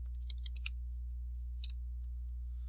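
Computer keyboard being typed on while entering data into spreadsheet cells, a short burst of several quick clicks followed by a pause and a couple more keystrokes, faint over a steady low hum.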